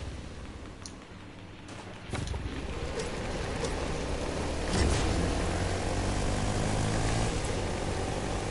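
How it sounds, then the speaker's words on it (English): Propeller airplane engine in a video game, a steady droning hum that grows louder and fuller partway through and holds constant to the end, with no voices. "Taking the plane."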